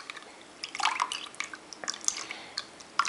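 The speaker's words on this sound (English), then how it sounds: "that I'm just going to pass through the juice a couple of times to get the seeds and the pulp out" Lemon juice dripping and trickling through a small kitchen strainer, a few close, light wet drips and splatters scattered over a few seconds.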